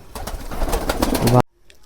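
A visiting pigeon at a pigeon farm coos close by while feeding from a hand, a run of throaty pulsing calls that stops abruptly after about a second and a half.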